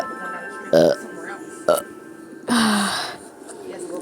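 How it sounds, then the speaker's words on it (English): A person lets out three loud, close burps, two short ones followed by a longer, drawn-out belch, over a faint background hum. "How many times do I have to burp?"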